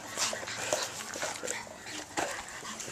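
Boston Terrier puppy whimpering and yipping in short high bursts, close by, while a person speaks softly over it.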